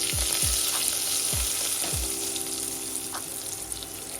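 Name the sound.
stuffed eggplant and potatoes added to hot oil, sizzling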